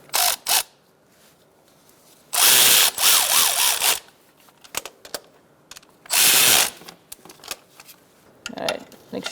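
Alternator bolts on a 2012-2017 Hyundai Accent 1.6L are snugged up with a power tool, two loud sustained whirring bursts separated by quieter clicks and rattles of tools close by.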